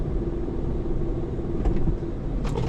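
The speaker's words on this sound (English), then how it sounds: "Something underneath that's rattling." A rattle from underneath a van, heard as a steady low rumbling drone with a few brief metallic clatters near the end, fairly close and with no voices.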